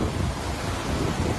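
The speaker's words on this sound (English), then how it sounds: "How the wind is sending the water to break the rock." Wind-driven waves crashing and breaking against rocks, a continuous loud roar of surf and gusting wind buffeting the microphone with no pauses.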